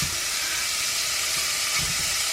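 Bite-sized pieces of bacon frying in a pan over medium-high heat give a steady, close, continuous sizzle and hiss, with no talking.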